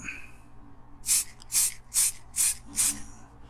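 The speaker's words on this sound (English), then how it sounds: "So we've got to spray it down." White spray paint hissing from a can onto a Corgi 437 Superior Ambulance model outdoors, five short close bursts in an even rhythm, with faint room noise between them.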